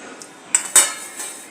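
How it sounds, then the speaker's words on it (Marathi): Soaked white peas tipped into a pressure cooker, giving a couple of short metallic clinks and knocks against the pot, close and fairly quiet over a soft background hiss. "मी कुकरमध्ये हा वाटाणा घालून घेत आहे"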